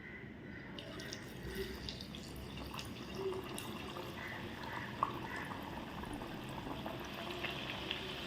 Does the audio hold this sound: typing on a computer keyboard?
no